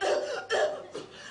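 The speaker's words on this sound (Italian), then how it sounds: "Mi viene l'affanno, la tosse." A person coughs three times in quick succession, breathy and moderately close, each burst weaker than the one before, with no words spoken.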